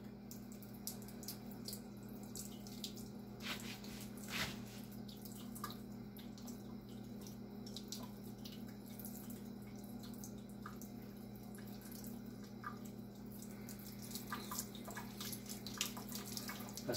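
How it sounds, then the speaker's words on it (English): Cold tap water runs and splashes steadily as dyed knife handles for an ESEE JG3 are rinsed, with a constant low hum and occasional sharper drips and knocks. "I'm going to just rinse this in cold water."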